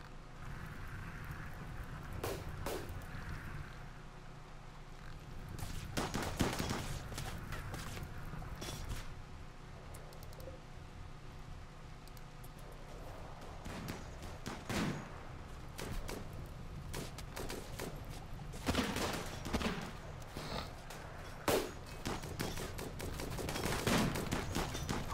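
Gunfire into a crowded group in the colony sim RimWorld: scattered shots and short bursts spread irregularly over a long stretch, fairly faint against a low background, with no speech.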